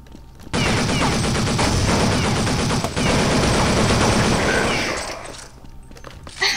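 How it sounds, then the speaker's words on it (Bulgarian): Sustained automatic machine gun fire in Counter-Strike, a dense, loud rattle of rapid shots running almost unbroken for several seconds before tapering off, with no talk over it. "Купих машин гъна и сега почвам да стрелям"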